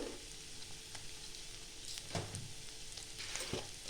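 Garlic cloves and green chillies lightly frying in oil for Bengali-style aloo chop, a steady soft sizzle throughout with a few brief stirring scrapes near the end.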